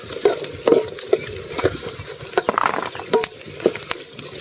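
Green chilies frying in hot oil in a pan outdoors, a steady sizzle broken by repeated scraping strokes of a stirring utensil, close and loud.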